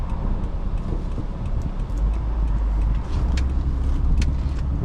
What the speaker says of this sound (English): let's check out the U-turn radius of this Camry